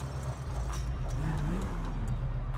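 A custom Daytona Demon Dodge Charger in a roleplay video game drives with a continuous low engine rumble, fairly loud and steady, plus faint clicks above it.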